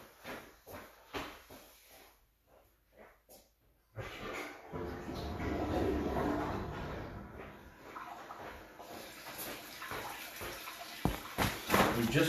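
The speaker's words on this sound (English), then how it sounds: "I'm gonna flush a toilet real quick to try to clear that off." A toilet is flushed and water rushes through the pipe. A few quiet seconds of faint knocks and clicks give way to a sudden, loud, steady whoosh of flowing water that keeps surging until the end.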